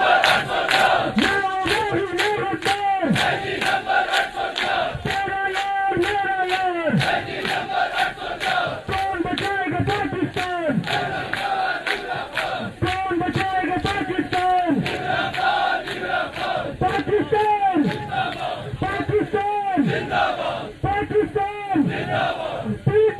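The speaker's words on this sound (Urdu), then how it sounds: "یہ اس قسم کے نعرے لگ رہے ہیں" A large crowd at a PTI rally in Gilgit-Baltistan chants political slogans in a loud, regular call-and-response rhythm, voices rising together in repeated bursts that keep a steady beat throughout.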